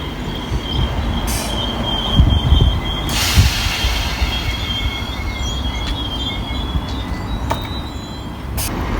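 A ScotRail Class 323 electric train runs through Motherwell station with a loud, continuous rumble, squealing wheels and a sustained high whine, close to the platform and with no talk.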